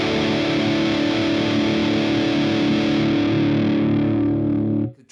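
Distorted electric guitar played through a Helix FATALITY dual rectifier amp model with the drive turned up, a loud, sustained and saturated chord ringing steadily for about five seconds before cutting off abruptly near the end.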